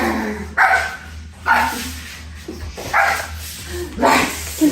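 A person on hands and knees imitates a dog, giving four loud, separate barking yelps spaced about a second apart.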